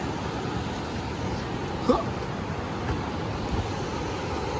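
Water rushes steadily through a canyon river as a broad, constant roar heard from nearby on a cold-season hike, with a faint brief sound briefly breaking the wash.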